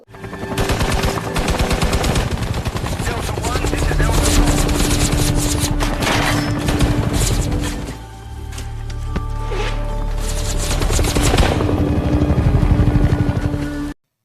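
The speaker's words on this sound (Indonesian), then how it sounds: "helikopter yang akan memasok amunisi tersebut ditembaki oleh musuh" Sustained bursts of rapid machine-gun fire aimed at a helicopter, with a rumbling engine underneath, loud and continuous, easing briefly midway before resuming.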